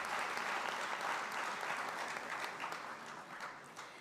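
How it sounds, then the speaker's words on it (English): An audience at a formal opening conclave applauds loudly and steadily, close and continuous, slowly fading toward the end. "A big applause for him."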